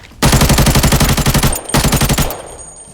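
Rapid automatic gunfire in the shooter game Arena Breakout, two long loud bursts of tightly spaced shots close by, the second shorter, then a fading tail.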